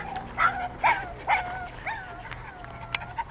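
A dog whimpers and yips in a run of high, rising cries, three sharper yelps close together, then softer whines trailing off, close by with a quiet background.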